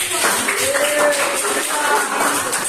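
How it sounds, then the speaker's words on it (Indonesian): A classroom claps for a student group after a microteaching economics lesson on financial reports, a short even burst of many hands at moderate volume with faint voices mixed in. "tepuk tangan untuk kelompok"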